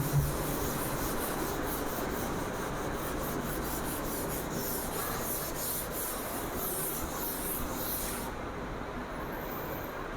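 A duster rubs chalk writing off a classroom board in a continuous, fairly close scrubbing rasp that runs for several seconds before it stops abruptly, with no voices.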